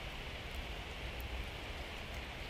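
Steady, soft rain falls in May, pattering evenly on spruce and pine branches as a continuous hiss with no voices.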